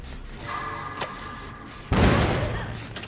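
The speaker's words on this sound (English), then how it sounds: "I blew up the Killer's generator." A generator blows up in the video game Dead by Daylight: a sudden loud boom and burst of crackling noise that dies away slowly, following quieter game sounds.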